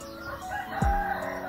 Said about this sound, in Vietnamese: gà gáy luôn.